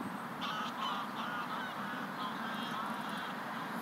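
Geese honk repeatedly at a distance, nasal calls overlapping over a steady outdoor hum.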